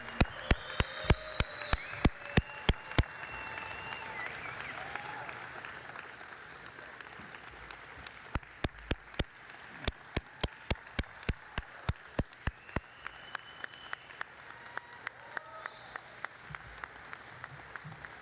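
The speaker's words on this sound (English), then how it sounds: "I think we can do one more round of applause" Sustained applause from a crowd, dense steady clapping with a few sharp individual claps standing out near the front.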